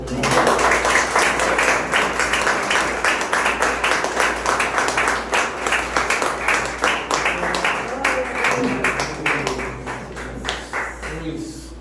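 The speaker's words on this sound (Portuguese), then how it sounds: "Vamos aplaudir o Senhor." Church seminar congregation applauding, a sustained round of clapping with a steady rhythmic patter and voices mixed in, over a low constant hum.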